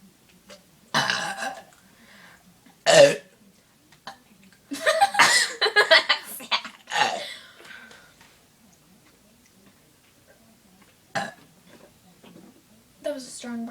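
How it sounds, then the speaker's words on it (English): A strong, loud burp stands out among short bursts of sound, with people talking and laughing softly around it in a burping contest. "That was a strong burp."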